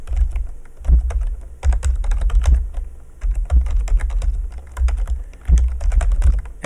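Computer keyboard typing, close and alone, in irregular bursts of rapid keystrokes with short pauses between words.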